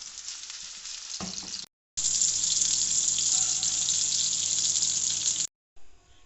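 Chicken seekh kebabs, green masala kebabs, sizzle hard in hot oil as a second batch fries: a loud, steady, close crackle that cuts out twice.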